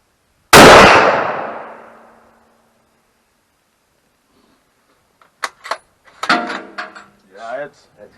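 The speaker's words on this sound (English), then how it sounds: "7mm Magnum. Like a military sniper. Yeah. Remington 700." A single loud gunshot from a Remington 700 rifle in 7mm Magnum at an outdoor range, a sharp crack with a long fading tail, followed by quieter clicks and clanks of the action being worked.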